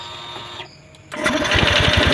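A Honda Scoopy scooter engine starts after its CKP sensor is replaced: a short starter whine, a brief lull, then the engine catches and runs with a loud, steady, close putter.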